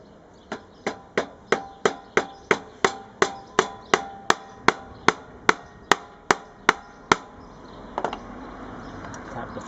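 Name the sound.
hammer tapping frets into a cigar-box guitar fretboard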